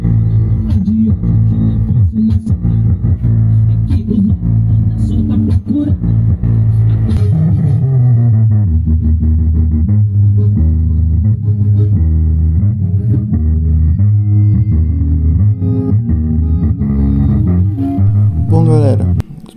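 Music thumping through a newly installed subwoofer speaker box in a Peugeot 207, with heavy, booming bass that stays loud and steady for the whole stretch.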